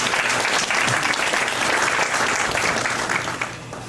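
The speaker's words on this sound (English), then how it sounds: "let's give a round of applause for the State of Catering and their staff for putting together a good meal" An audience at a 2011 Commercial Club Citizen of the Year banquet applauds the catering staff, with steady, dense clapping that fills the room and tapers slightly at the end.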